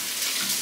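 Cold tap water runs steadily into a bathroom sink while a face is rinsed, a continuous close splashing hiss with slight fluctuations and no talking.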